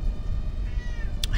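A cat named Willow meows close by, a drawn-out mewing call rising in the latter half, fairly loud over a quiet room with no talking.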